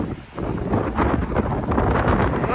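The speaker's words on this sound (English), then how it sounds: "It's very windy" Strong wind gusts buffet the microphone outdoors on the outskirts of London, producing a continuous loud roaring rush that swells and eases without pause.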